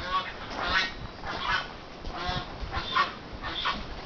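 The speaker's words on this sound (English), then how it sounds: "That's a goose." A goose honks repeatedly in a 2010 backyard garden with greenhouses, its loud nasal calls coming in irregular bursts about every half second to a second, fairly close, with no talking.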